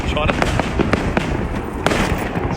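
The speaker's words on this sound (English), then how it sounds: "Just non-stop fireworks here, just everywhere." Chinese New Year fireworks crackle and bang without pause in a loud, dense barrage of overlapping pops and bursts, with voices talking underneath.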